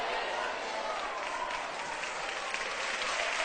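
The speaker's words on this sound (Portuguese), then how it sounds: "Se é para aplaudir, aplaude como quem espera a bênção." A church congregation applauds during an evangelical sermon, a dense, even wash of clapping that holds steady throughout, with voices faintly mixed in.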